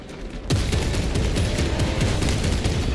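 Heavy gunfire in the video game Space Marine 2, bursting in suddenly after a quiet moment and continuing as rapid, loud, overlapping shots and booms.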